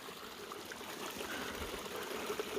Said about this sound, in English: A little running water, be a nice water resupply point.